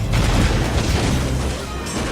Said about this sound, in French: Sortez les canons et coulez-moi ce navire!